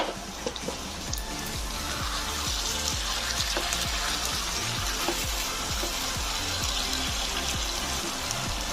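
Okra and potato curry fries in a pan, giving a steady, close, dense sizzle with a faint rhythmic low thumping underneath, continuous throughout without speech.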